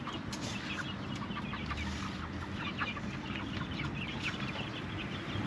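Chickens in a coop in Taiwan clucking continuously at close range, several birds overlapping in busy, uneven chatter over a steady background hum.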